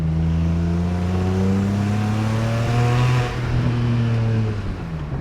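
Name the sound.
BMW 335i N54 engine revving under boost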